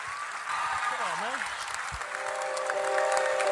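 A crowd claps steadily for a rapper after a live track, while a voice and brief tonal sounds rise over the applause.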